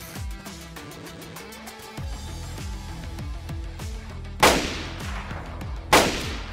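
Gunfire in the survival shooter DayZ, several sharp shots at moderate distance with rumbling echo tails, two louder cracks near the end, and no talking.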